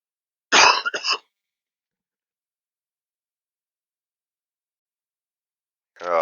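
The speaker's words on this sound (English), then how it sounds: "Coughing again." Two separate coughs: a sharp, close burst near the start, a long silence, then another cough right at the end.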